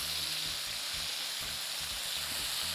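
A steak, golden brown on one side, fries in a pan of garlic butter with a loud, constant sizzle. Low thumps and shuffles come from the pan underneath, close up, with no talking.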